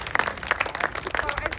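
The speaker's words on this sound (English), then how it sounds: "Let's give Sandy a round of applause." Audience at an ambulance dedication ceremony gives a round of applause, steady clapping from a moderate crowd filling the moment.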